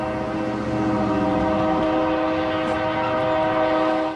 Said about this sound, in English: Some 75 trains roll through town, frequently stopping traffic.